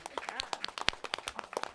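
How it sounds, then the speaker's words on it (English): An audience at a talk on low-energy, low-carbon buildings in China and the U.S. gives scattered, quiet hand claps, with a few voices mixed in briefly. "can we applaud these guys from trying out my..."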